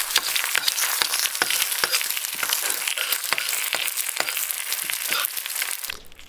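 An egg fries in a pan with a steady, crackling sizzle full of sharp pops, close and loud throughout, before cutting off near the end.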